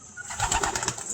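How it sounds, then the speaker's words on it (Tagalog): A pet pigeon cooing close by in a few soft, throaty pulses, with no voices over it. "Kalapati ko guys, oh."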